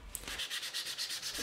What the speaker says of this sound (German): macht ihr den letzten Feinschliff mit 800er Schleifpapier